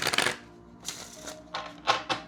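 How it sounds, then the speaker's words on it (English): Crisp papery riffles of tarot cards being shuffled, several short bursts with pauses between, close and fairly quiet. "I'm gonna shuffle one more time."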